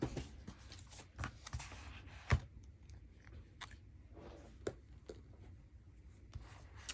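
A Pelikan M200 EF fountain pen scratches softly across Rhodia paper in faint intermittent strokes with small ticks and pauses, close by and quiet.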